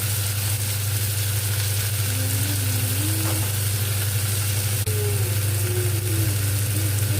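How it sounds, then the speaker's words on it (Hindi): Tomatoes sauté in a pan with a continuous sizzle and light stirring, a steady low hum underneath and occasional scraping through the several seconds. "टमाटर अच्छे से भून लेंगे"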